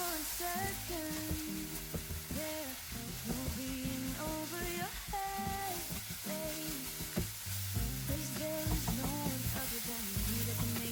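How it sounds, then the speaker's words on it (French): Eggs fry in a drizzle of oil in a pan, a steady close sizzle with scraping and stirring noises over a continuous crackling bed, no voices. "dans la même poêle, je vais rajouter un filet d'huile et ensuite rajouter mes œufs"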